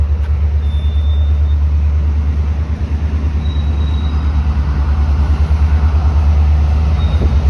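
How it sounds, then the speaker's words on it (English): A CP train approaching along Scarlett Road in York, Toronto, heard as a loud, steady low rumble with a rhythmic pulsing rattle that holds throughout, close by and with no talk over it. "I can hear a train coming"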